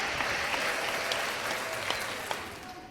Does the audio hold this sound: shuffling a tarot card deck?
no